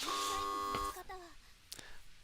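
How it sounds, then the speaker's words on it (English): A doorbell chimes at a house entrance in the visual novel If My Heart Had Wings, a sustained bright electronic tone cut off abruptly, followed by fainter trailing notes. "A bell ringing."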